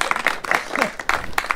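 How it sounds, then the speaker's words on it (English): Golf day crowd at Crane Valley Golf Club clapping for a prize winner, a steady patter of applause from a modest group lasting the whole moment, fairly close and moderately loud. "You can clap him, but you don't have to."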